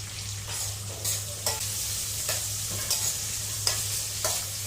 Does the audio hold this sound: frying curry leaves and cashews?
yes